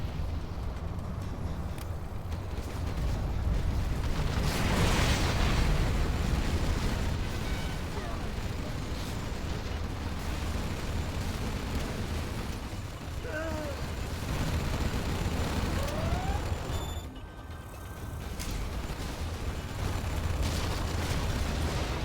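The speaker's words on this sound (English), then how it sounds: "So 2 nukes are going to take out a bunch of stinger sites and infantry and vehicles" Nuclear explosions in the strategy game C&C Zero Hour, heavy rumbling blasts that swell loudly around the start and return later, with a sustained roar of destruction and game effects in between.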